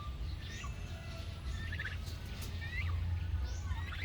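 Turkeys gobble repeatedly in bursts at close range over a steady background hum, likely a poultry pen where young turkeys are sick with fowl pox.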